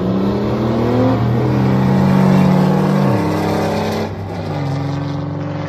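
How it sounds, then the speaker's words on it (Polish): Loud, close car engines, including a Mercedes 500, roar and rev steadily at an air and motor show, pitch rising and falling, with a brief dip before the engine note swells again. "posłuchajmy dźwięku tych silników"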